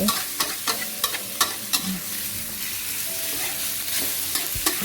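Pork and shrimp stir-fry in a pan, with a steady sizzle broken by repeated sharp scrapes and clacks of a utensil against the metal, close and fairly loud, no talking.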